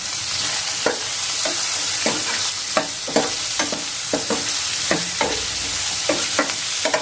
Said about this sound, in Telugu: ఉల్లిపాయ మిర్చి బాగా లైట్ గోల్డెన్ షేడ్ వచ్చేంత వరకు మనం వేయించుకోవాలి.